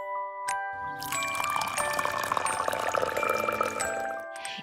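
Water is poured into a vessel as a story sound effect, a bright splashing trickle with tinkling ringing tones, starting after a short pause and flowing steadily for about three seconds before fading.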